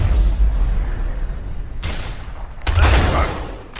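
Gunfire in the A Way Out video game, loud bursts of shots in two heavy clusters separated by a short lull, with no voices.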